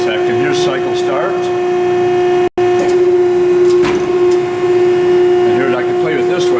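A Mitts & Merrill K-2024 keyseater machine runs a cycle, a steady tonal motor hum with a strong sustained whine and rhythmic shifting undertones, broken by a brief dropout midway, while a person talks nearby.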